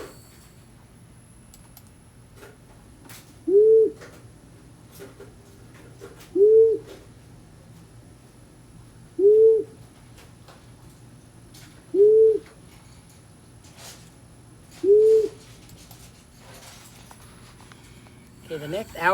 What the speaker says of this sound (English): let's take a listen to the long-eared owl now and see what he sounds like